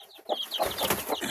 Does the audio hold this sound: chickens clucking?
yes